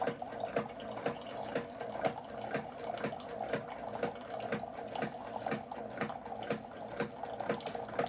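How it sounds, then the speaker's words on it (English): Hot water pours into a Tim Hortons jack-o'-lantern mug with a continuous splashing trickle broken by regular rhythmic pulses, moderately close and steady with no talking. "So let's put some hot water in there and watch it change."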